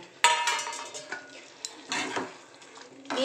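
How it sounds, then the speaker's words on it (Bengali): Fried prawns tipped into cooked, oil-separated masala in a pan for a prawn curry, giving a sharp metallic clatter followed by several softer scrapes and knocks of a utensil against the pan, close and fairly quiet. "এবারে এই ভাজা মাছগুলো আমি এর মধ্যে দিয়ে দেবো"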